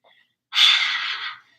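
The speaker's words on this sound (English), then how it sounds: "Big yummy exhale, a cleanse and a release." A single big breathy exhale during a vinyasa yoga flow, a close, airy rush of breath lasting just under a second after a brief faint sound, with no talk over it.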